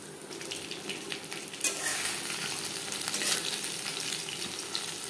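Fish pieces shallow-frying in hot oil for a crispy Bengali fish fry, a continuous crackling sizzle with bursts of spatter that grows louder partway through, no voices.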